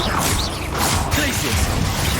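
Bombarda blasting spell cast in the Hogwarts Legacy video game, heard as a loud, dense wash of crashing, crackling impact and swooshing magic effects that continues without a break across the whole moment.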